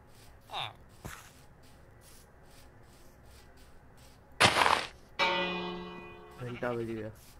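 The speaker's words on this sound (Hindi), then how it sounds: "घंटा बज गया, छुट्टी हो गई।" A village bell in Minecraft rings with a sharp clang and a ringing tail, one loud strike after a few softer game sounds, followed by someone speaking over the game.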